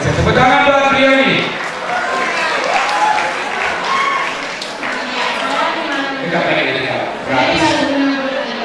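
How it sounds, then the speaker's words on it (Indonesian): Seminar audience applauding, a burst of many hands that is loudest at the start and then carries on more softly under people talking over it. "Tepuk tangan buat beliau ini"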